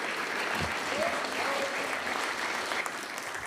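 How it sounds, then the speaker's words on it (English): Steady applause from an audience at a higher-education event, greeting new task force members for Pacific Islands and Oceania studies, a brief dense wash of clapping with a voice faintly audible beneath it. "Let's give them a big round of applause."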